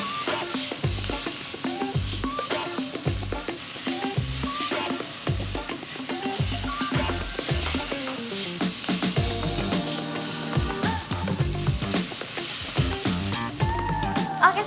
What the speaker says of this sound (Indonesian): Oke, ini dagingnya udah wangi. Oke. Sekarang kita masukin glass noodle-nya.